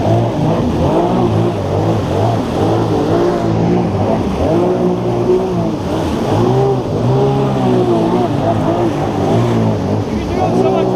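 A modded Sea-Doo Spark personal watercraft engine runs loud and close, its pitch rising and falling as it revs, with a voice talking over the engine.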